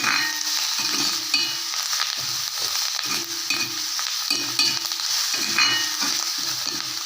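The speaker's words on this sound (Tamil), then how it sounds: "நல்லா வதங்குது பாருங்கள் கருவேப்பிலை" Curry leaves sauté in hot oil with a continuous crackling sizzle, broken by rhythmic scraping stirs of a spoon in the pan, close and moderately loud with no talking.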